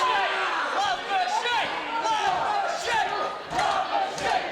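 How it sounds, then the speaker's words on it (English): A live professional wrestling crowd in Queenstown, New Zealand cheers and chants in loud, rising waves of massed voices that swell and ebb throughout, close and continuous. "The Queenstown crowd here now getting behind Love Machine."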